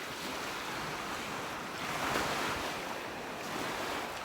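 Ocean waves washing onto a sunny beach, a steady broad roar of surf with gentle swells in intensity and some wind rush on the microphone, no talking.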